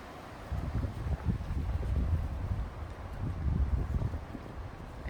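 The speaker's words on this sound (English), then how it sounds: "it's super windy outside as well" Strong outdoor wind buffets the microphone in gusty, low rumbling waves that swell and ease, loud and close, with no speech.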